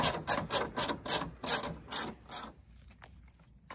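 A 10mm socket wrench ratchets on LED mounting bolts on a Toyota, giving about eight quick, rhythmic, close-up ratcheting strokes before stopping, followed by a few faint ticks.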